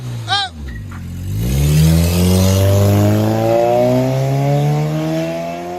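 Revving Chevy Cobalt 2.2L exhaust with a Vibrant bottle resonator: a brief voice over the start, then a close, loud rev that climbs smoothly and holds a rising droning tone for several seconds.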